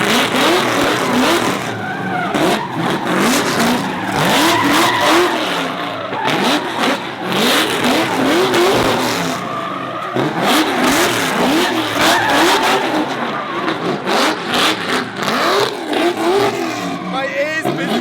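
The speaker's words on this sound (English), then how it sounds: "Pro driver warms his tires fronts and rears" A drift car at a UAE drift event revs hard and skids, its tires squealing in repeated rising and falling bursts as the driver warms front and rear tires, loud and continuous; voices talk over it.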